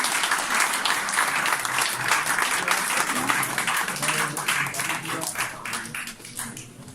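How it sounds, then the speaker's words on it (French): Sustained applause from a crowd, with dense clapping that holds steady for several seconds and fades slightly at the end. "Alors, les applaudissements très fort."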